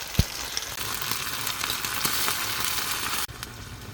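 Noodles frying in a pan in a van kitchen, a steady loud sizzle with a few small clinks and taps of stirring, the hiss dropping off sharply near the end.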